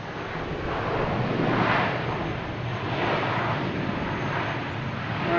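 An American Airlines jet arriving at Boston Logan Airport, a steady broadband engine roar with slight swells, fairly loud and continuous, no voices.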